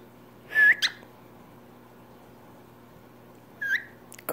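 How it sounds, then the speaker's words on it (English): Two short, bright whistles separated by a long quiet pause, as a person and a bird whistle back and forth indoors, with a faint steady hum underneath. "You want to whistle? Can you whistle for me?"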